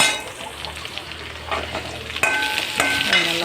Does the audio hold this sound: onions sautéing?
yes